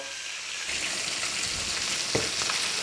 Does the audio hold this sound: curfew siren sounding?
no